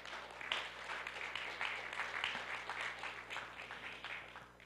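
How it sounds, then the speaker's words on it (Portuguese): Audience applause at a round-table book debate on Brazil's political right, a steady wash of many hands clapping that holds for several seconds and slowly tapers without any talk. "agora podem aplaudir"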